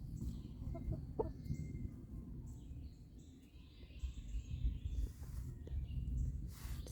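Farm roosters crow and cluck at a distance, several calls scattered over a low rumbling background, faint and intermittent.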